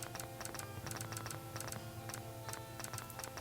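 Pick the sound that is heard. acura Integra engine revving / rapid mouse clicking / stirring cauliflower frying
rapid mouse clicking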